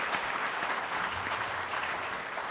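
Sustained audience applause fills the room at a policy conference after a panel discussion, a dense, steady wash of many hands clapping at even loudness with no voices standing out.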